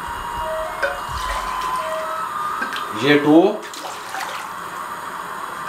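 Water poured from a measuring glass into a cooking pan during drink preparation, a short splashing pour in the middle of the clip while a person keeps talking throughout.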